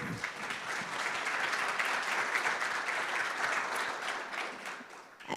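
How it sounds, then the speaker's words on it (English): An audience at a bladder cancer patient advocate panel discussion claps to welcome the panelists, a dense burst of applause that holds steady for several seconds before fading out. "Let's give them a round of applause."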